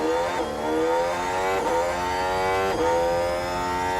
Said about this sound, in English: let's go on board, shall we, with Oscar, as we do a hot lap around Monte Carlo